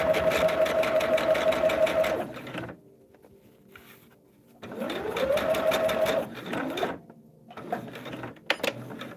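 A sewing machine stitches a fan quilt block along a solid line on a foundation, running in two long bursts with a brief quiet pause between them and a shorter run at the end.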